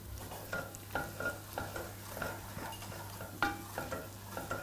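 Chili flakes and soy sauce are stirred in a pan for kimchi fried rice, a quiet rhythmic scraping mix repeated about twice a second over a soft sizzle, close and without speech.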